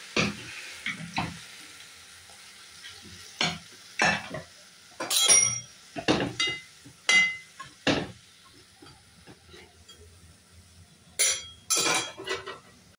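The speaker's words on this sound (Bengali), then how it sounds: "আমি জল ফেলে ঢাকা দিয়ে সেদ্ধ করব।" A lid goes onto a cooking pot of Bengali shukto after water has been added, with a run of sharp metallic clinks and knocks over a faint sizzle in a quiet kitchen.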